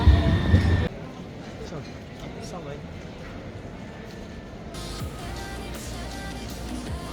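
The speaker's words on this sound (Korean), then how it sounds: "트램이 성당 바로 앞으로 지나가네요." A tram rolls past directly in front of Seville Cathedral, its low rumble and rattling running continuously beneath nearby people talking in a busy street.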